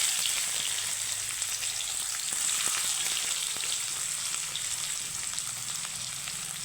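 Whole cumin seeds and chopped onion fry in hot oil, producing a loud, continuous, even sizzle that runs unbroken throughout, with faint crackles and no talking.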